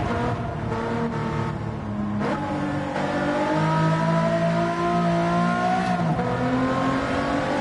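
A V6 race car in Gran Turismo 7 revs hard through the gears, its engine pitch climbing and then dropping at each shift in a loud, continuous drone with no talk.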